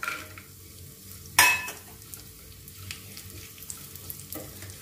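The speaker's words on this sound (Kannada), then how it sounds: "ತುಪ್ಪ ಕಾದಿದೆ, ಇವಾಗ ಬಾದಾಮಿ ಹಾಕೋಣ, ಸ್ವಲ್ಪ ಫ್ರೈ ಮಾಡಿ" Almonds fry in hot ghee in a pan, giving a steady sizzle with stirring scrapes and one sharp clatter near the start, close and moderately loud with no talking.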